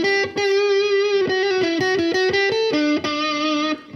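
A Gretsch G5655TG electric guitar with distortion plays a short melodic phrase of sustained, buzzing notes, loud and close, with brief gaps between some notes.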